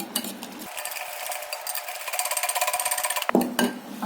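Beaten omelette eggs seasoned with black pepper and salt being whisked in a bowl, a fast rhythmic tapping that builds into a steady, evenly spaced clatter before stopping abruptly, close and fairly quiet.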